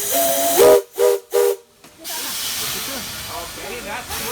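The steam locomotive Glenbrook sounds its whistle three times in quick succession, loud and close from the cab, followed by a steady hiss of steam with faint voices in the background.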